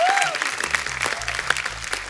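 A studio audience on a Hindi comedy talk show bursts into loud, busy applause over a thumping music beat, with a voice coming through faintly amid the clapping.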